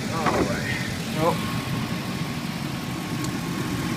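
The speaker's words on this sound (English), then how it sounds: "here's the engine of the vehicle." A billboard truck's quiet engine idles with a steady low rumble, while a voice speaks briefly over it near the start.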